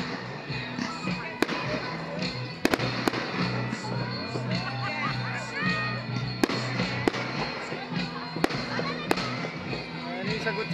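Sharp booms and crackling bursts of New Year's Eve fireworks go off repeatedly at a distance, scattered across a steady hum of voices and background noise.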